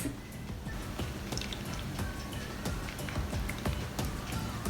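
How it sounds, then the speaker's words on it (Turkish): Chilled syrup poured over kalburabastı, a Turkish semolina dessert, giving a soft continuous trickle with scattered faint drips and wet clicks, close and quiet, with no talking. "Şimdi tatlımızın üzerine şerbetimizi dökebiliriz."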